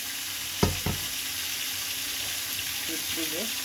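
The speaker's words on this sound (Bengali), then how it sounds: "মাছটা ভাজতে তুলে দিয়েছি" Sarputi fish fry in hot oil in a home kitchen, giving a steady sizzle broken by two sharp clatters early on and a few faint tonal sounds near the end.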